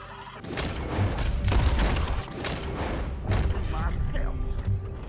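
Gunfire in Red Dead Redemption 2 cracks in several heavy bursts, close and loud, with booming reports overlapping and someone talking between shots.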